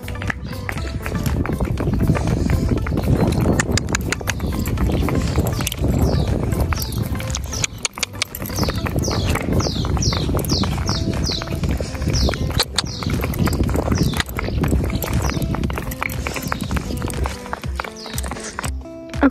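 Horse hooves clip-clopping as a sweaty horse is walked home, a dense run of close, loud hoofbeats continuing throughout.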